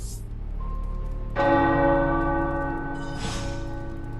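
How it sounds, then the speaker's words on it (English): Tower bells ring in Marvel's Midnight Suns, a loud struck bell with a long ringing overtone-rich decay, followed by a second strike as the first still hums. "The tower bells are ringing."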